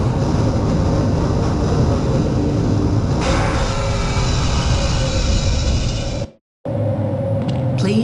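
A tram ride in the Half-Life video game rolls in with a loud, continuous low rumble and rail noise. It cuts out briefly near the end, then resumes, with no voices.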